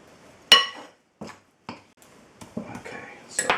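A spoon scrapes and knocks against a bowl while mixing stiff rice bread dough, with a sharp clink followed by irregular scrapes and taps, close by.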